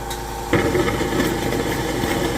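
A pipe-cleaning machine runs on the heating pipes of an oil boiler system during a distributor replacement in Cheongju. It kicks in abruptly after a short pause and keeps up a loud, steady mechanical drone with a rough, churning texture.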